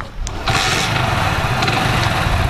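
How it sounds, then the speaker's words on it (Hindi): A motorcycle, started without a key, cranks and catches, then settles into a steady close, buzzing idle that carries on for a couple of seconds. "विदाउट की के स्टार्ट हो गया बाइक अपना।"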